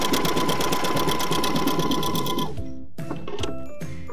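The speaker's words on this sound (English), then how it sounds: "Let's go ahead and place our fabric under the machine and start sewing" A Viking Epic 980Q sewing machine stitches fabric in a rapid, even mechanical chatter for about two and a half seconds, then stops abruptly, followed by a few quieter clicks and whirs of the machine settling, close up with no speech.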